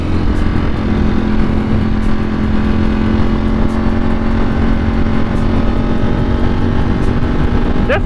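A Ducati Streetfighter motorcycle fitted with a 520 chain and sprocket rides at speed, its engine droning loud and steady close to the microphone under a constant wash of wind noise.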